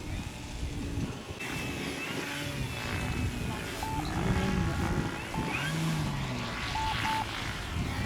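An 80-inch Hangar 9 Brave RC model airplane flies at a distance, its faint propeller drone steady beneath outdoor ambience at the flying field, with occasional soft electronic beeps.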